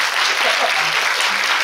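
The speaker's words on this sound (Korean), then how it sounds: "그럼 어떻게 박수 한번 쳐드릴 테니까 빨리 치세요." Audience applause at a Korean film screening Q&A with the director, a steady dense clapping wash filling the clip.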